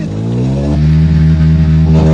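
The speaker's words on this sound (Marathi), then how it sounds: "फायनली मित्रांनो अर्ध्या घंट्यानं आमची गाडी चालू झालेली आहे" A car engine idles with a steady, close, continuous hum, running smoothly just after finally starting following about half an hour of failed attempts; no one speaks.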